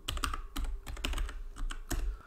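Quick typing of a search into a web browser on a computer keyboard, a rapid run of close key clicks over a couple of seconds with no voices.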